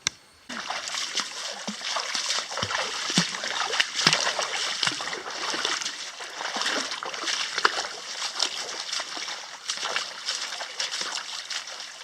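Water wells up from a well in a Thai jungle with a steady splashing, bubbling rush, heard close and continuous.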